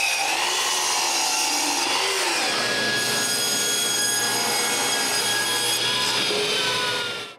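Power saw cutting wood pieces for a small cyclone box in a workshop, a steady, loud, continuous whine with a pitch shift partway through as the blade works the cut, running alone throughout.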